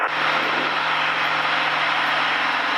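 A Cessna 172 light propeller plane on a touch-and-go, with its engine droning loud and steady up close from the cockpit as power is reduced.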